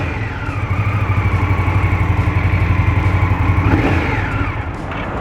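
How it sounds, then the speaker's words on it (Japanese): An Indian Scout motorcycle engine idling close by through twin exhaust pipes, a steady low throbbing, punchy rumble with a brief rise in revs near the end. "エンジンの駆動する音とマフラーから出てくる音、ここのバランスがアイドリングさせてる時でも十分かっこよくて"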